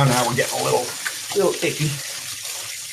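Raw chicken being rinsed under a running kitchen tap, water splashing steadily beneath a person talking close by for most of the clip.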